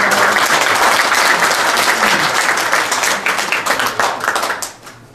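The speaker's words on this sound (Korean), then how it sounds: "박수 부탁드리겠습니다." Audience at a seminar on taekwondo and the Korean Wave gives loud, sustained applause, a dense wash of many clapping hands that thins into scattered claps and fades near the end.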